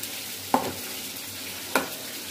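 Chili and onion frying in a pan for a vegetable fry, a steady sizzle broken by two sharp spatula scrapes.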